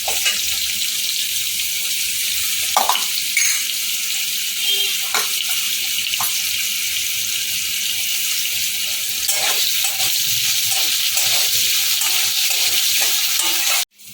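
Potatoes fry lightly in a pan for a Bengali fish curry, giving a steady close sizzle with occasional clinks and stirring sounds.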